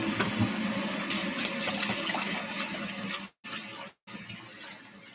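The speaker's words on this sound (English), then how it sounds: "So I'm just gonna wash my hands." Hands being washed under a running kitchen tap, a steady loud gush of water with splashing that cuts off twice briefly before resuming, close by with no talking.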